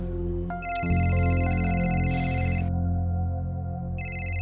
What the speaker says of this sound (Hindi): देखा फोन बजा था।